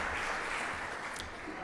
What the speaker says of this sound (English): So I want to give all of you, Sean, everyone here, a big round of applause